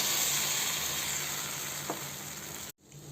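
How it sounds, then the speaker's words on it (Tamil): Sweet paniyaram batter fries in a hot pan with a close, steady crackling sizzle, one small clink partway through, then an abrupt cut leaving quieter sizzling. "அடுத்து நம்ம ஸ்வீட் பணியாரம் ஊற்றுவோம்."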